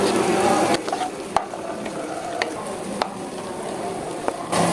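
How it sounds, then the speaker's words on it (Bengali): Chopped onion fries in hot oil for spicy mutton, a steady loud sizzle broken by occasional clinks and scrapes of stirring, with no voices. "সেই তেলের মধ্যে আমি এখন এই যে পেঁয়াজ কুচি দিয়ে দিচ্ছি"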